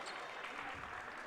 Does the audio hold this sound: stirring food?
no